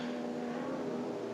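Race car engines at a VLN endurance race at the Nürburgring drone in the background as a steady, fairly loud tone that holds for a moment.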